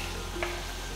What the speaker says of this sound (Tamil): கொஞ்சமா கருவேப்பிலையும் சேர்த்து நல்லா மிக்ஸ் பண்ணுங்க